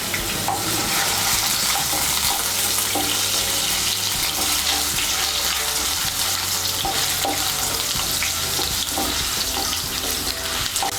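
Potato stirred in a pan of hot oil with tempered spices, giving a dense, loud sizzle with soft scraping under it, continuous and close, with no voices.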